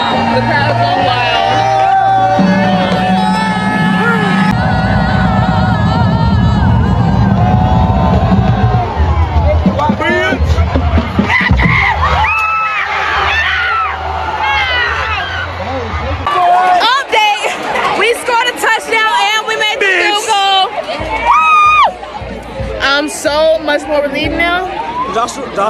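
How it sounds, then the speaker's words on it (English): Crowd noise at a high school football game, a steady roar of cheering and whooping with shouts, mixed with loud nearby talking throughout. "The crowd is going wild."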